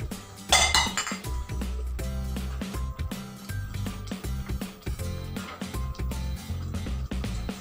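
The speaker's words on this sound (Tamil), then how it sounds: "ஒரு மூடி போட்டுடலாம்." A metal lid clatters onto a cooking pot of rava khichdi, giving repeated close clinks and ringing metallic knocks, with a brief scrape near the start.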